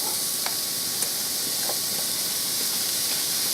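Onions dropped into a hot, lightly oiled pan for a poblano, cilantro and spinach egg dish; a steady, fairly loud sizzle and hiss with a few small stirring clicks, no talk.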